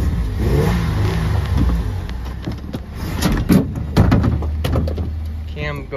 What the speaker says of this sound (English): Car starts, does not want to stay running long.